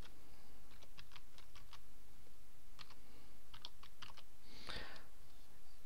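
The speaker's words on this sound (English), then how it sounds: "enter the domain name that you're thinking about registering" Someone types a domain name on a computer keyboard in quick bursts of clicky keystrokes, close and clear, ending with one louder key press.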